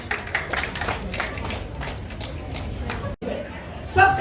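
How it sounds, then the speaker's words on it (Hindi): Audience applause at a chef graduation ceremony for a cookery class in Jamshedpur, India: a dense wash of steady clapping with murmured chatter mixed in, a brief drop near the end, then a louder swell. "आप सभी तालियां बजा दें।"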